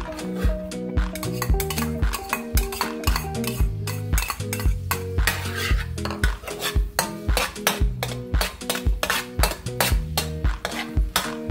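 A utensil scrapes and clinks repeatedly against a pan while garlic is stirred in hot oil, a rhythmic metallic stirring heard up close with no talking.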